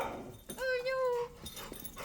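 A Labrador lets out a short, high whimper, a thin whining tone lasting under a second, close by, with people talking around it.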